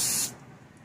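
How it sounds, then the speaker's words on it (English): A short, loud hiss of butter-flavored cooking spray misted onto breakfast food, lasting about a quarter second up close before cutting off to a quiet kitchen background. "Spray more butter stuff on it."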